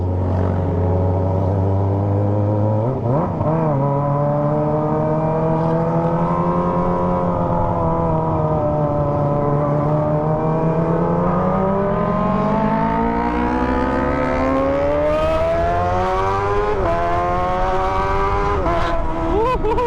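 Kawasaki ZX25R motorcycle fitted with a Toce exhaust, ridden hard and revved toward the limit: a loud, continuous, high-pitched engine wail that climbs and dips through gears for about twenty seconds, close to the listener.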